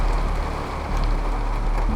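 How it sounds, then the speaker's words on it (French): Dense, steady pattering of hail striking a surface, close and continuous with no voices. "Ah, c'est la grêle. Tu l'as entendu? Ouais, la grêle."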